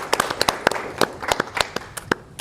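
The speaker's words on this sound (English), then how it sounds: "Please, let's give them a round of applause," An audience at a private sector sustainable growth conference applauds, sharp separate claps sounding fairly faint and slightly distant, with no talking.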